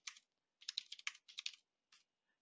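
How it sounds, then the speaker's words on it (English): Someone types numbers on a computer keyboard into a spreadsheet: short bursts of soft, close key taps separated by brief gaps in an otherwise silent room. "I'm just gonna type in some numbers here"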